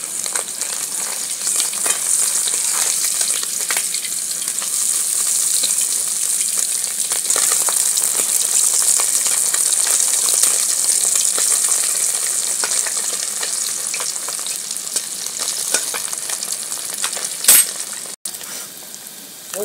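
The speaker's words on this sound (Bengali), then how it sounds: "আমার মাছগুলো দেখুন ভালো ভাজা হয়ে গেছে।" Gule fish frying in hot oil in a pan; a constant loud crackling sizzle runs throughout with occasional metallic clinks and a sharp knock near the end.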